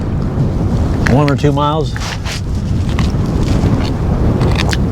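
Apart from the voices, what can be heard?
strong wind while cycling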